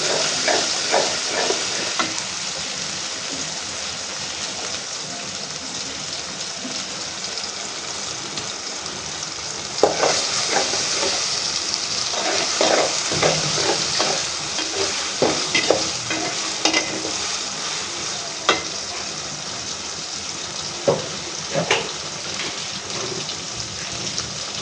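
Pointed gourd (potol) frying in a pan with ground cumin paste, a steady close sizzle with stirring scrapes and clatter throughout, no talking.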